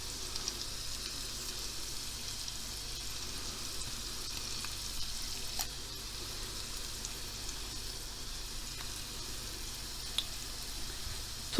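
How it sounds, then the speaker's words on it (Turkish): Mushrooms sautéing in a pan for a vegetable barley-vermicelli pilaf give a soft, steady sizzle that crackles faintly and evenly throughout, with no voices over it. "mantarlarımız da çok güzel sotelendi"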